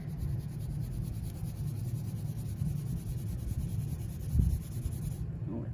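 Crayon or marker colouring on a paper koi fish flag, a steady close scratchy rubbing that runs continuously with no talk.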